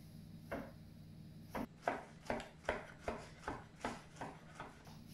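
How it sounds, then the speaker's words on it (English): A knife chops a peeled banana on a board for a pizza topping, about eight soft, evenly spaced cuts close by and fairly quiet, with no talking. "Our next ingredient is bananas, so just give that a peel and give it a chop."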